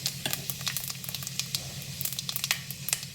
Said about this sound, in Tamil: இப்போ எண்ணெய் ஊற்றிருக்கோம். இதில் சோம்பு, வெந்தயம் இது பொரிஞ்ச உடனே